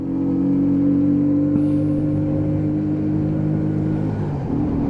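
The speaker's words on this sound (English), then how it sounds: "Just winding it up with that headwind on again, and we're back to 30 mile an hour" Lexmoto Hunter 50cc motorbike accelerating into a headwind: a steady, buzzing small-engine drone with a held pitch, heavy wind rush over the rider, loud and continuous from start to end.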